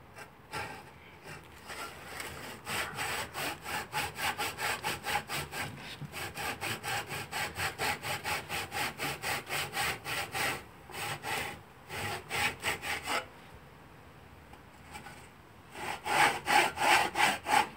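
A hand saw cuts a wooden tenon in steady, rhythmic back-and-forth strokes, close and fairly loud, with brief pauses and a burst of faster, harder strokes near the end.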